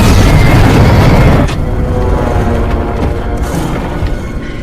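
An oxygen tank bursts in a loud, close explosion in a film scene, a heavy boom that fills the opening second and then decays into a long rumbling roar that gradually fades.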